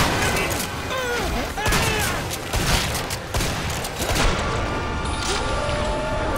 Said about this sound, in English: I also kind of suck with shotguns. Boom. I missed.